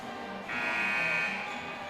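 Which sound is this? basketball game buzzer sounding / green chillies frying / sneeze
basketball game buzzer sounding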